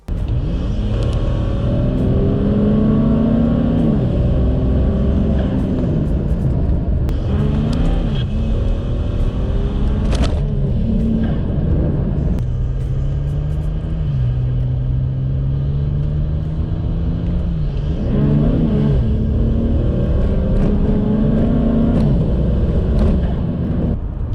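A car engine revs hard through acceleration pulls, loud and close, its pitch climbing steadily then dropping at each gear change before rising again, a continuous roaring drone with no talking.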